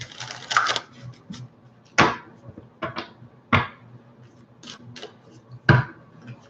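Tarot cards being shuffled by hand: a handful of sharp, papery riffling bursts spaced by short pauses, close and fairly loud, with quieter rustles between.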